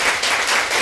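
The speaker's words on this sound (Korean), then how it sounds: "박수 한번 쳐주세요" Sustained applause from a congregation honoring a nun's feast day at a Catholic Mass, a dense even wash of many hands clapping, loud and close with no pauses.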